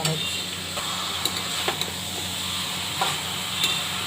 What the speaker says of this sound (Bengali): নাড়া হচ্ছে